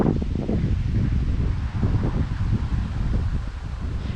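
Wind blowing at a creek during fishing, a steady broadband roar with gusty rustling and buffeting against the microphone, continuous throughout, no voices.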